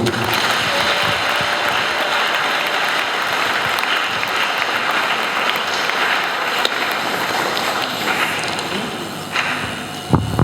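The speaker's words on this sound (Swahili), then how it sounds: "Makofi kwa Bwana." A church congregation at an investiture service applauds in a continuous, loud wash of clapping and crowd noise lasting several seconds, with no talk over it.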